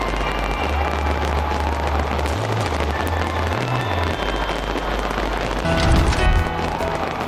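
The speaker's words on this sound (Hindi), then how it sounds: "ऑकलैंड में बेहद अलग अंदाज में काउंटडाउन शुरू हुआ और फिर जमकर आतिशबाजी हुई।" New Year fireworks over Auckland, heard as a dense, continuous crackle and patter of bursts with a low rumble underneath and a louder cluster of bangs toward the end, with faint crowd noise mixed in.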